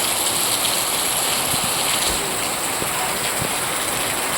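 Steady first monsoon rain falls continuously, a dense even hiss with faint scattered drips, close and unbroken with no voices.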